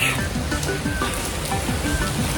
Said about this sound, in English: It is raining not lightly anymore. It is hard rain.